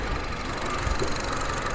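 The 1.8-litre R18 engine of a 2020 Honda Civic FC 1.8 EL idles under the open hood, a steady low rumble with a faint rhythmic tick, no talking over it.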